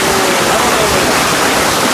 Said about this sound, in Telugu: దగ్గరికి అయితే వచ్చేసాం వాటర్ ఫాల్స్ దగ్గరికి.